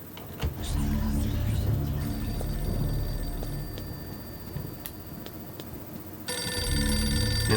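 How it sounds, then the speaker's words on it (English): An in-game telephone rings in Eternal Darkness: Sanity's Requiem, a bright electronic ring that sounds in short bursts over low, droning game ambience and turns loud and sustained near the end. "Answer the phone."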